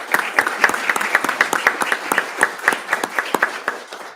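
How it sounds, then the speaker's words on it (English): A sizable audience at a regional emergency communications chapter meeting claps for corporate sponsors, a steady, even patter of many hands that holds at a loud level throughout with no voices over it. "So if we can give them a round of applause for their support."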